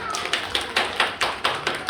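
Small group of children and adults clapping at a kindergarten initiation ceremony, rhythmic and fairly close, with distinct claps roughly every quarter second, moderately loud in a room.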